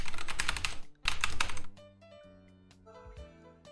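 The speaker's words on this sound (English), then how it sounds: "I might have turned up the volume of my keyboard." Fast, loud bursts of clicking keys on a computer keyboard with turned-up volume, two dense typing runs followed by sparser, scattered keystrokes against faint background tones.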